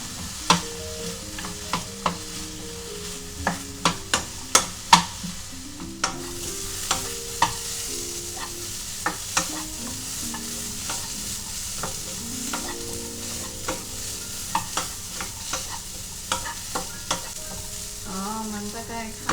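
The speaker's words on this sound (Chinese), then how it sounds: "我们将番薯炒，要炒至番薯半熟哦" Sweet potato stir-fried in a wok, continuous sizzle with repeated sharp scraping and clanking strokes of a spatula against the metal, close and irregular.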